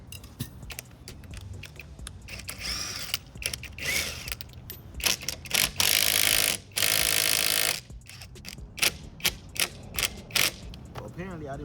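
A socket wrench ratchets and clicks in short bursts while loosening a wheel nut on a Chrysler 300, with irregular clanks and creaks between the pulls.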